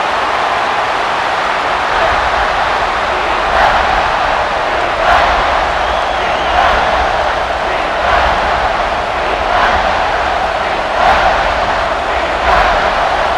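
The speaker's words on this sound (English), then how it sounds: "This crowd is trying to inspire this defense to make a big red zone stop." A loud video-game stadium crowd at a college football game roars continuously, a dense wash of cheering and noise with occasional sharper bursts.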